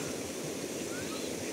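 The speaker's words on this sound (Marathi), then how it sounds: "बघा वरती धबधबा" Arjunkada waterfall in Kharghar sends down a constant broadband roar that fills the whole moment evenly, heard from a short distance without speech.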